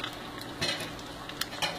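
Brazilian kibe fries in oil in a pan, a steady close sizzle with a few brief crackling pops over less than two seconds, with no talk.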